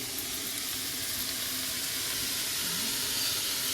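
Wild kurdu greens hit a pan of frying onions with a steady, close sizzle and hiss, an even wash of frying noise with no voices.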